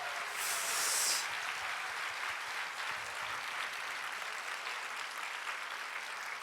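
Church congregation giving a steady round of applause at a Korean worship service, a dense, even wash of clapping heard from a distance that holds for several seconds without talk.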